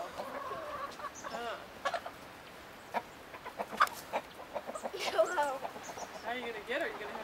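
Several chickens cluck and squawk nearby in short irregular bursts, with a person speaking quietly among them.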